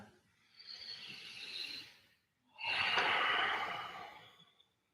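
Two long, slow breaths during a vinyasa yoga practice, close and airy: a softer inhale through the nose, a short pause, then a fuller, louder exhale that fades out.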